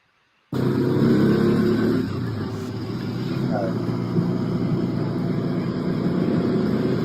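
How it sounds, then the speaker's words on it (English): Little motor scooters ride through a village in Nubia, their engines a steady, close droning hum with wind buffeting, starting abruptly after a brief silence and running continuously. "now we're just taking these little scooters through the village"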